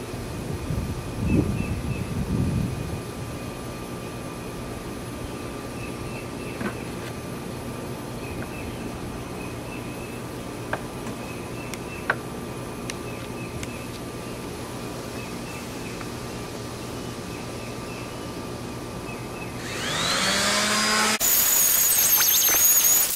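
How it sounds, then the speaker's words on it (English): A power sander roughs up the finish on an old piece of furniture before paint pouring, giving a steady, moderately loud whirring drone with a faint whine for most of the stretch, then a louder, harsher burst near the end, with no voices. "We're going to go ahead and sand."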